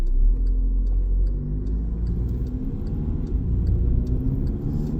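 A Skoda Yeti 2.0 TDI with a DSG automatic gearbox cruises on a 70 mph dual carriageway, giving a constant low road and engine rumble heard from inside the cabin. Faint ticking sits above the rumble, and there is no talk.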